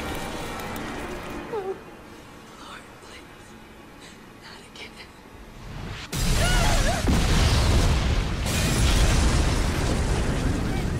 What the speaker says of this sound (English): That should have been bigger, that explosion.